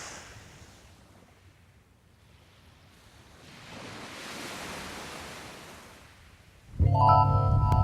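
Mediterranean surf washing onto a shallow beach, a steady broadband hiss that swells into a louder breaking wave midway, then ends in a sudden loud burst of low rumble.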